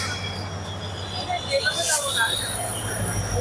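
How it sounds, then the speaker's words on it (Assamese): A train rumbles past nearby during the Ambubachi Mela at Kamakhya Temple, with a steady mechanical drone and faint metallic squeals, and a voice is briefly heard over it. "এতিয়া আমাৰ চাইডেদি আহি আছে ট্ৰেইন এখন ট্ৰেইন চাওক"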